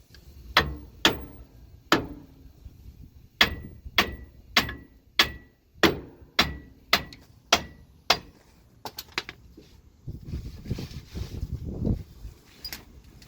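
Heavy hammer blows strike a truck drive shaft to knock it off its yoke, about a dozen loud metallic hits at a steady pace, followed by rattling and shuffling.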